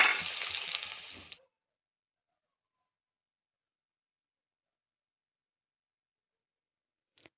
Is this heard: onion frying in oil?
yes